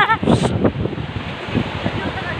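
Rough, murky sea waves at Apad Beach make a steady broadband roar with wind buffeting the microphone, while people talk briefly near the start.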